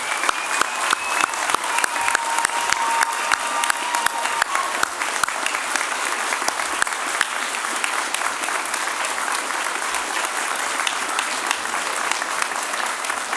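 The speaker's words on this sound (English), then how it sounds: "join me in a huge round of applause for our graduates" Audience applause for graduates at a fall university convocation ceremony, a sustained, dense wash of many hands clapping steadily throughout, loud and even, with faint voices and whistles mixed into the crowd noise.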